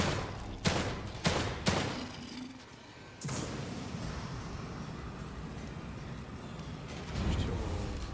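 Gunfire in The Evil Within 2: a few sharp, loud gunshots in quick succession open the sequence, followed by a pause and then a sustained rumbling roar of fire and noise.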